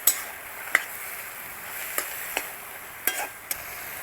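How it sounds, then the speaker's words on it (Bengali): Fish and rice-cooked taro stolons sizzling and frying in a pan, a steady close hiss broken by a few sharp clicks and scrapes of stirring, no voices. "আমার এই চালটা দিয়ে লতা দিয়ে মাছ দিয়ে রান্না করতেছি"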